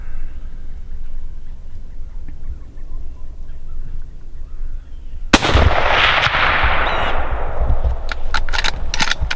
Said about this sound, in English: Right there, you need to shoot.